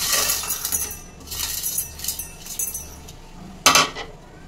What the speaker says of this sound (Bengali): এবার একটা মিক্সির জার নিয়েছি। মিক্সির জারে আমি ঢেলে দেবো।